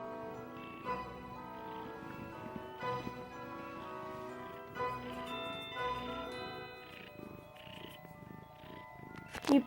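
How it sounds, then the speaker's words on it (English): A cat purrs softly and steadily at close range in a quiet home, the low continuous rumble running under a faint musical background. "You're purring."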